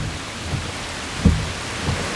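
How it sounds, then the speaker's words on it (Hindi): Steady rain pours down at a bus stand, with a dull thump of thunder partway through over the constant hiss of falling water. "बारिश हो रही है"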